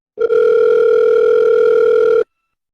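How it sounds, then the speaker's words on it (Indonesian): A phone line ringing out with no answer: a steady, loud tone that holds unbroken for about two seconds and then stops, with no voice over it. "Santi menelepon Anton hingga beberapa kali, namun tidak ada jawaban dari Anton"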